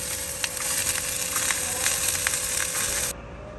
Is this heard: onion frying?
yes